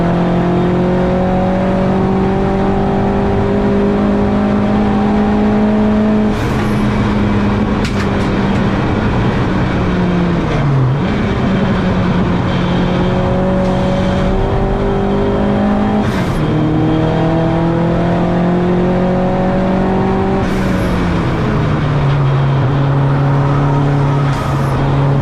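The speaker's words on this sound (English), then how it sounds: "Lots of limiter hitting action there, which is not great." A touring car in the Turbo Tin Tops race at Donington, its engine held loud and close at high revs, repeatedly bouncing off the rev limiter, with pitch dips at gear changes and other cars audible around it.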